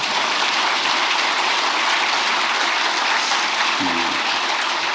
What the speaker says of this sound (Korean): 이럴 때 박수도 한번 하세요.